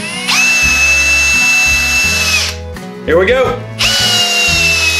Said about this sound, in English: Let's see if this can drive this in, the 3/8 inch, five inch. We can take it out, but can we drive it in?